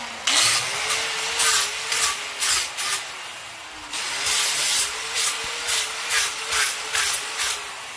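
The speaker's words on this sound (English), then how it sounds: "So I'm just gonna take it to the grinder now." An angle grinder fitted with a worn disc carves into a wooden tree stump, giving a steady motor whine with repeated rough, loud grinding bursts as the disc bites the wood and eases off, with no voices.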